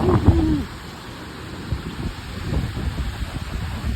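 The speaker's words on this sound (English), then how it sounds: "Pretty windy, pretty flooded." Hurricane Ian wind and rain over a flooded street: a gusty, hissing rush of wind and rain that swells and fades, with a brief tonal squeal at the start and no speech.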